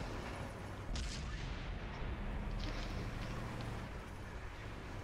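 Artillery fire in a PS4 clan game: heavy booming impacts and rumbling blasts over a constant dense roar of battle noise, loud and close throughout.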